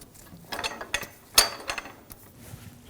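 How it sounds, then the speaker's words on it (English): A pole jack is lowered beneath a 2006-2009 Audi S4 during a rear wheel hub bearing job, giving a few faint, sparse metallic ratchet clicks and clanks in a quiet workshop. "And lower the pole jack."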